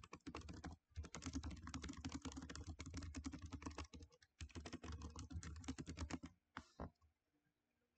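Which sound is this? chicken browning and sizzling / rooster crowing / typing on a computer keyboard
typing on a computer keyboard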